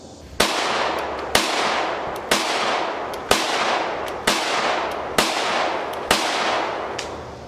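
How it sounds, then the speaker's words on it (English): Seven sharp, loud gunshots from a PSA Rock 5.7 pistol at a shooting range, fired one by one at a steady pace about a second apart, each with a short ringing tail and no talk. "this is a real pleasure to shoot at the range"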